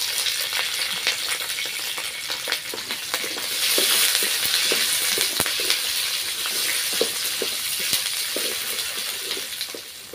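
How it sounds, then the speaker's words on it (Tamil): Garlic and onion frying in oil in a pan for a Tamil kara kuzhambu, a steady crackling sizzle with scattered pops and stirring clinks, close and continuous with no talk. "பூண்டு வெங்காயம் இது ரெண்டையும் சேர்த்து எண்ணெயிலே நல்லா வதக்கி விட்டுடலாம்."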